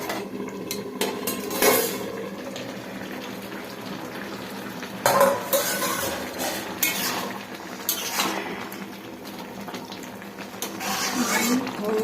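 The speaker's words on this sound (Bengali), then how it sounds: "এবার আমি কড়াটা খুলে দেখব শাকগুলো সেদ্ধ হয়েছে কি না" Metal clanks and scrapes as a wok lid is lifted and greens boiling with potatoes are stirred and checked in a home kitchen, with intermittent sharp clatters over a steady background.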